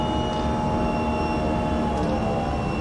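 Airliner engines roar steadily during takeoff climb-out in a flight simulator, a loud, continuous broadband drone with faint tonal whines over it and no pauses.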